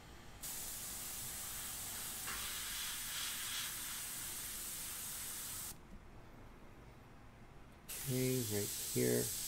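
Airbrush spraying paint during portrait painting, a steady close hiss running for several seconds, briefly cutting out, then resuming while a person speaks over it.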